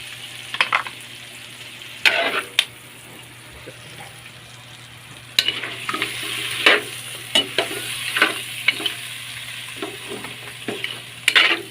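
Native chicken adobo simmers in coconut milk while a spoon stirs it, with irregular scraping knocks against the pot over a soft continuous sizzle; no speech.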